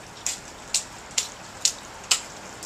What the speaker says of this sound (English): She loves the splashing puddles, so we finally bought her some rain boots.